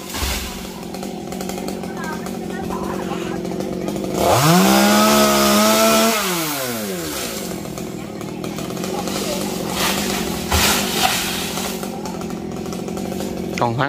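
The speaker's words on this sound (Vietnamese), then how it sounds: "Còn khoảng vài tàu nữa là anh đã cưa xong cái con tàu." A chainsaw cutting king palm fronds in the Mekong Delta, revving loudly for about two seconds mid-clip with a rising and falling whine, set against steady outdoor background noise.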